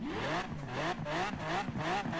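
Lamborghini Veneno engine in the Forza Horizon 4 racing game, revving in repeated rising and falling surges with crackling exhaust pops, loud and continuous with no speech.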